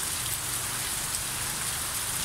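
Rain falls steadily on a cool afternoon, an even dense patter and hiss that stays constant throughout, close and loud with no voices.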